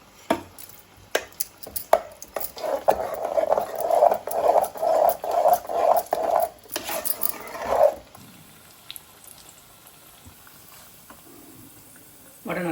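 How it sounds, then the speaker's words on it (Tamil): Vada frying in hot oil for a simple amavasai padaiyal meal, a steady sizzling bubble with rhythmic bursts of spattering that swell for several seconds, then fade into quieter kitchen background. "வடை நல்லா பொரிஞ்சிடுச்சு. எடுத்துடலாம்."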